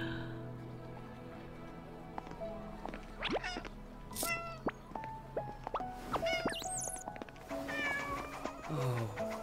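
A kitten meows repeatedly in high, thin calls amid other small animated chirps and squeaks, moderately quiet with no speech.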